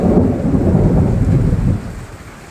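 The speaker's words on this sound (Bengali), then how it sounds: "দেখো সবাইকে বৃষ্টি পড়ছে কেমন।" Heavy rain falls with a deep rolling thunder rumble, heard from a balcony; it is loud and close, then the rumble fades to softer rainfall near the end.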